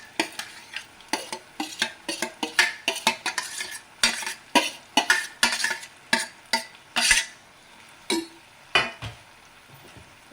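Mashed potatoes being stirred into fried onions in a pan for a potato palya, with repeated scraping and clinking strokes of a spatula against the metal pan under a faint sizzle, irregular and close.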